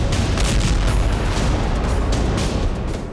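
A planted bomb blows up an Israeli Merkava tank: a loud, sustained roaring boom that fills the whole moment with dense rumble and fades slightly at the end.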